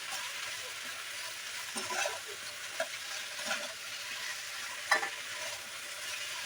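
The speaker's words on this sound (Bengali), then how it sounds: "এবার আমি দিয়ে দেবো ঝিঙে, এই যে ঝিঙে কাটা, ঝিঙেটা দিয়ে দেবো।" Chopped ridge gourd frying in a pan with onion, a quiet steady sizzle broken by a few scraping stirs and one sharp clink near the end.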